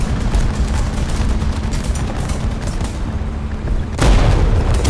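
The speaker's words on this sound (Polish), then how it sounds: "Jakieś małe działo, bo szybko strzela." Rapid cannon fire from a small tank gun in War Thunder, the VK 3002 (M) prototype battle, pounds loudly in a dense, continuous barrage of booms, with a heavier burst near the end.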